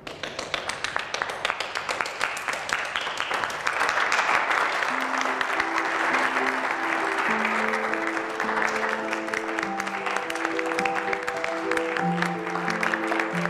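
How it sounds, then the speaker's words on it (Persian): Studio audience applauding one another at the close of a comedy series scene, dense sustained clapping throughout, with music-like tonal notes rising underneath from the middle onward. "خواهش میکنم بیاین تشویق بکنیم همدیگر رو و دیگه تموم."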